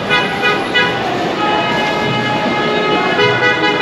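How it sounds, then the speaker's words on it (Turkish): Car horns blare almost continuously in busy nighttime street traffic in Jordan, loud, overlapping honks over the hum of passing vehicles. "Burada inanılmaz derecede kornaya basıyorlar."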